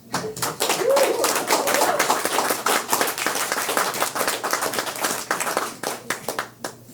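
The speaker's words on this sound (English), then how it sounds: "Let's give him one more hand." Audience members at a community meetup clap for a presenter in a steady, fairly close round of applause that holds loud for several seconds and then tapers into scattered individual claps.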